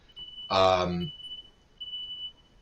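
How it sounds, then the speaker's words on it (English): A smoke or fire alarm emits a thin, continuous high beep that runs through most of the stretch, with a burst of talk near the start during a Formula 1 Spanish Grand Prix race review. "Oh, the fire alarm was just going off."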